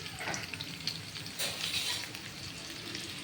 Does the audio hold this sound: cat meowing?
no